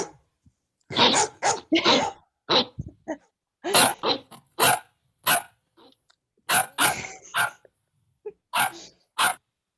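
A person imitates a dog, giving a long run of loud, close barks and gruff yelps in uneven bursts with short silences between them.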